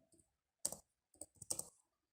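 A few quick keystrokes on a computer keyboard while entering HTML, close and crisp, in two short clusters of clicks with silence around them.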